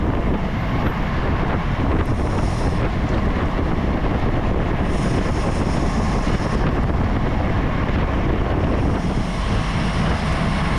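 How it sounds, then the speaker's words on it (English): Strong, constant wind roar buffets the microphone of a rider during a Cat 4/5 bicycle road race, a loud, unbroken rushing with faint high whines coming and going. "So even though right now I'm in the wind,"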